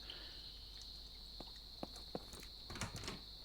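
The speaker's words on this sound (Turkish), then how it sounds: "Oo sinek sesi geldi lan." A steady high-pitched insect drone, like a fly buzzing close by, runs throughout, with a few soft thuds and footsteps underneath, in a video game's metro station.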